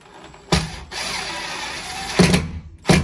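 A power drill drives a sheetrock screw through a washer into a wall: three loud bursts of motor whine, the long middle run ending in a couple of short clutch clicks.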